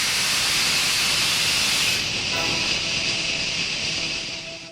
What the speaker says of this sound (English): That sounds like a steam engine.